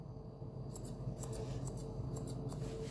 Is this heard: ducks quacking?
no